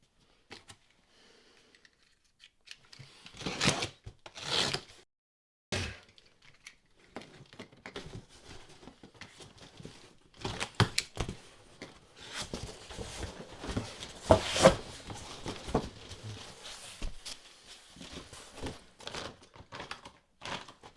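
Cutting open a shipping box that holds graded video games: sharp, close knife slices and tape tearing in quick bursts, then rustling cardboard and handling noises as the flaps are pulled, no talking.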